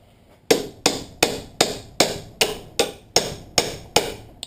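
Hammer blows on a ground-down seat belt bolt during a 1989 Ford F-150 driver seat belt replacement, eleven sharp metallic strikes in an even, quick rhythm, close and loud.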